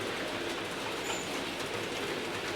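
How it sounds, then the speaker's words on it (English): Two model Helsian Metropolitan city trams running on an O gauge layout under DC power, a continuous soft rolling rumble and hiss with faint rail clatter, steady and moderately quiet throughout. "Today we're running two Helsian Metropolitan city trams."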